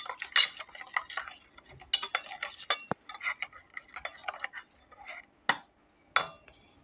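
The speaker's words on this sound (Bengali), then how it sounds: "ভালোভাবে মিক্সড করে নিচ্ছি।" Spoon scraping and clinking in a pan of spices as a pointed gourd dish is cooked, with irregular close metallic taps and scrapes, a few sharper knocks standing out, no talking.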